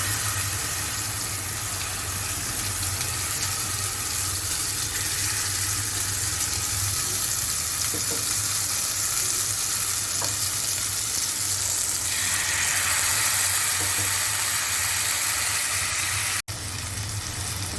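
Spice masala fries in two spoons of hot oil in a kadai, giving a steady, close hiss and sizzle that runs almost unbroken from start to finish, with a faint scrape near the end.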